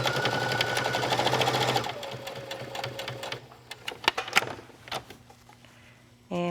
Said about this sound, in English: And we'll stitch all the way around.